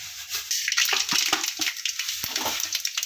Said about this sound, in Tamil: இப்போ அதிலே வந்து நம்ம கடுகு சேர்த்துக்கலாம்.